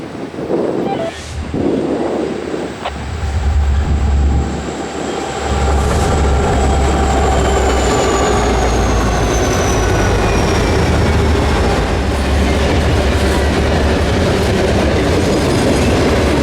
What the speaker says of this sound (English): Here came westbound 22A, which is 23G's westbound counterpart, heading back to Louisville, Kentucky with more international containers